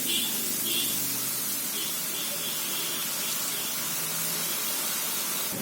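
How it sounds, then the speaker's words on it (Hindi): Boondi, gram flour droplets, frying in hot oil, a soft, steady sizzling hiss that stays even and fairly quiet throughout, with no voices. "अब हम ये दूसरी बार बूंदी को फ्राई करेंगे।"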